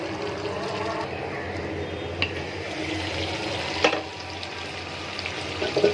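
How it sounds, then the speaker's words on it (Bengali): Fried onions, garlic and three dried red chilies sizzle together in hot oil as a tempering for a beef bhuna curry, a steady crackling fry with faint stirring clinks, close and moderately loud. "পেঁয়াজ বেরেস্তা এবং রসুন পেঁয়াজ সেই সাথে 3টা শুকনা মরিচ দিয়ে একসাথে ফোড়ন দিয়েছি"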